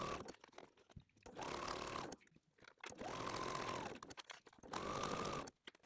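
A sewing machine stitches around a zipped, lined flat pouch about 1 cm from the edge, running in three even bursts of roughly a second each with brief quiet pauses between.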